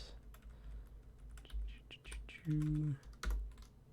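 Computer keyboard keys click in short bursts as a terminal command is typed to restart a MySQL service, with a brief hum and a louder thump partway through.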